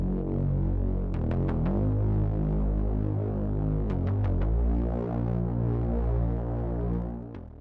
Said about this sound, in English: I have this one more bass sound that is heard in the breakdown section.